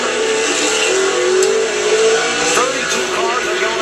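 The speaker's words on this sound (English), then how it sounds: "32 cars are going out to qualify now" Race cars at Chicagoland run qualifying laps, their engines giving a loud, continuous high-pitched roar that rises and falls as cars pass, with a commentator talking over it.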